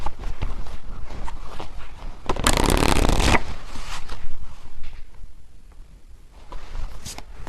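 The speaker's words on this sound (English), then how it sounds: "I just shuffled these and these were at the bottom" Tarot cards being shuffled by hand, a close, brisk riffling burst in the middle surrounded by softer handling rustles and taps of the deck.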